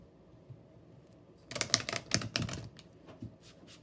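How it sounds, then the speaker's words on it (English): A quick flurry of crisp riffling clicks as tarot cards are shuffled, a brief burst in the middle of an otherwise quiet room. "One more shuffle."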